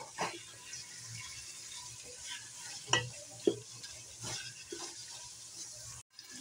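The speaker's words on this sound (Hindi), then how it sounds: "थोड़ा सा ऑयल हम और ले लेंगे ताकि चिकन हमारी अच्छी तरह से फ्राई हो जाए।" Chicken fries in oil over a full flame for namkeen chicken chana, a moderate sizzle under repeated scraping and clinking stirs, steady and close with no talk.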